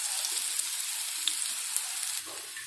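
Chilli bhajji, large mild green chillies coated in besan batter, fry in hot oil over a medium flame, giving a steady dense sizzle with small pops, close and continuous, with a slight drop near the end.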